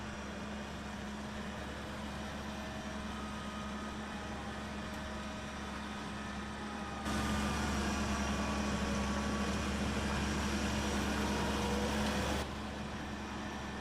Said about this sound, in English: Very noisy tractor, this one.